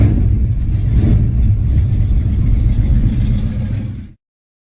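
Chevelle muscle car nicknamed Black Beauty, its engine a loud, deep rumbling roar with revving surges, close up and continuous, cutting off abruptly at the end, no talking.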